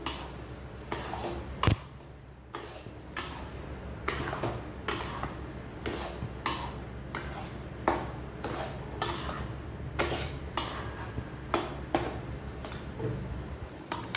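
A spoon or spatula stirs sugar into a semolina and mango barfi mixture in a pan, giving a steady run of close, rhythmic scraping ticks and clinks against the pan without a break.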